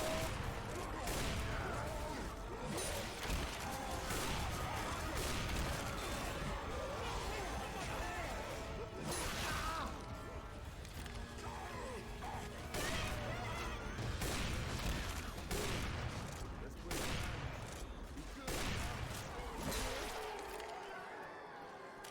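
Rapid bursts of gunfire pour into the Tank in Left 4 Dead 2, a dense run of shots and crashes over game noise, with players talking throughout.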